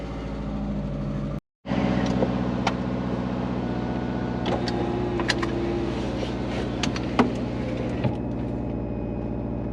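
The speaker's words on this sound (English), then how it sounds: "let's start her up, get the idle good, and head out" A big-turbo Subaru Forester sleeper engine cranks, catches and settles into a steady, loud idle, with a brief dropout near the start, a few faint clicks and a thin whine on top.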